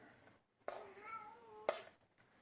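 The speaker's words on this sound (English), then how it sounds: "Sorry, that was the cat." A cat meows in a kitchen during vegan ackee and tofu quiche cooking, with two close, clear meows about a second apart, the first drawn out and the second short and sharp.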